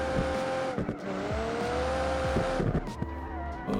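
A car drifting in the BeamNG.drive driving game with a career-overhaul mod, its engine revving loudly while the tires squeal continuously through long slides, engine pitch rising and falling with gear changes.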